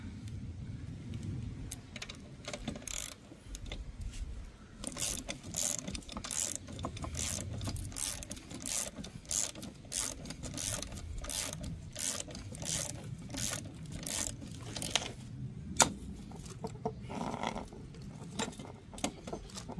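A spring compressor tightens the coil springs of a 2007 Kia Sorento front strut, giving repeated close ratcheting clicks and metallic scrapes over a low mechanical rumble, with no talking.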